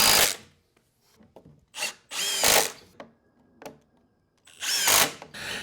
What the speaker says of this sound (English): So I drilled some more pocket hole screws